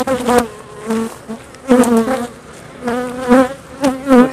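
Honey bees buzz around a fully capped, heavy frame of honey during a harvest, a close, wavering drone that swells in several loud bursts.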